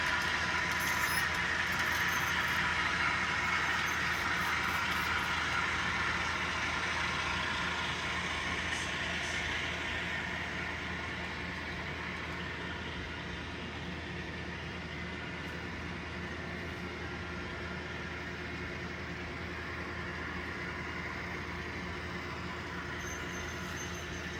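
A Bowser RS3 model diesel locomotive, repainted in Southern Pacific colors, runs on a city section of a model railroad layout, giving a steady continuous motor hum and rolling drone throughout with no talk.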